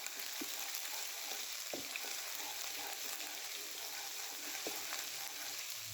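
Garlic ginger paste fries in hot oil in a wok, giving a steady, soft hiss and sizzle, while a spoon stirring it makes a few faint scrapes and knocks.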